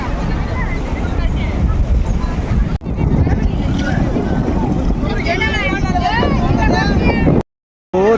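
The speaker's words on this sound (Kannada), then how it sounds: "ತುಂಬಾ ಫೋರ್ಸ್ ಆಗಿ ಬರ್ತಿದೆ ನೀರು" Floodwater pours with great force over the overflow of the Marikanive reservoir, a loud, steady roar close by, with wind buffeting the microphone and a voice speaking over it.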